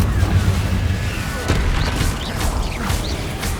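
A Confringo fire spell in Hogwarts Legacy bursts with a heavy boom. Crackling and whooshing effects follow amid a dense game soundscape, with no speech over it.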